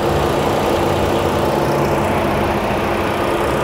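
A 2018 Ford Edge Titanium's 2.7 liter engine idles just after start-up, a loud, steady, close low rumble that continues evenly without breaks and with no talking.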